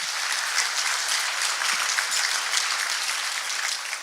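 A roomful of people applauds at a chamber of commerce industry panel event, steady dense clapping that holds at an even level throughout, close and fairly loud.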